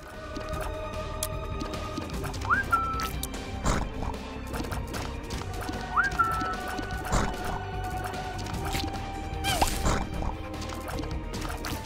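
In The Binding of Isaac: Rebirth, an enemy lets out two short rising whistle calls a few seconds apart, set against busy, clattering game sound effects and thumps.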